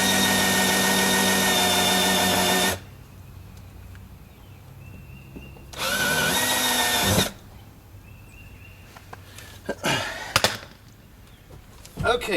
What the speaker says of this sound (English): my rear hole is drilled out now